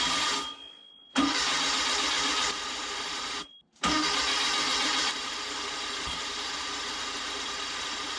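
A 1776cc engine cranks on a first-start attempt, probably flooded: loud, steady starter churning in two long bursts separated by short silences, without catching into a run.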